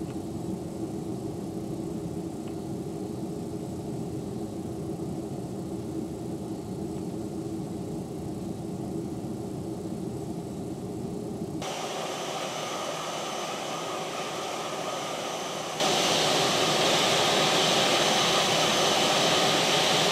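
Jet engines of a DHL Airbus A380 cargo jet in Flight Simulator X spool up for takeoff, a steady loud roar with a broad hiss that jumps in brightness partway through and swells louder near the end, with no voices.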